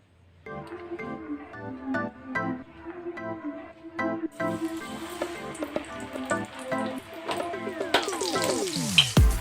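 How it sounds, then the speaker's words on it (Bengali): Bhetki fish fingers dipped one at a time into hot oil over a lowered gas flame, sizzling steadily and growing louder toward the end, with rhythmic background music running underneath. "এইভাবে একটা একটা করে মাছ আমি করে করে ভেজে নেবো"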